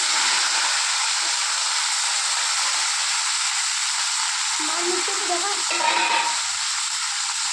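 Cauliflower frying in hot oil, a loud, dense, continuous hiss and sizzle held steady throughout, with a faint stir midway.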